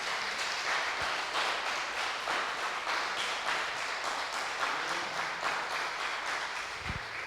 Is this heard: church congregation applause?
yes